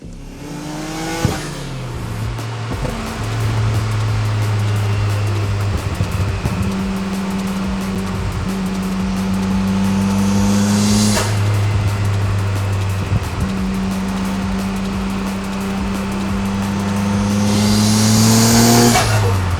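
A Nissan Skyline R34 GT-R V-Spec engine revs and accelerates loudly and close by, gear changes breaking up long rising tones, with a few sharp bursts of throttle.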